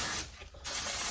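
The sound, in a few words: spray painting a Dinky Jaguar toy car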